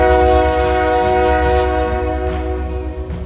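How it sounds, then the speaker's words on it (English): Union Pacific local freight train led by an SD60 and a GP38-2 blasting a loud, sustained multi-tone horn up close, with rumbling locomotive engines and wheel noise underneath. "The next train of the day was a Union Pacific local, led by an SD60 and a GP38-2."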